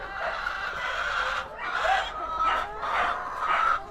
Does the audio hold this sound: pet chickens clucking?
yes